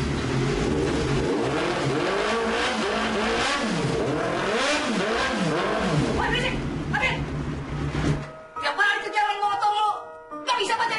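Tuned motorcycle engine revving hard and steadily up close, with repeated rising and falling pitch sweeps for about eight seconds before it cuts off abruptly.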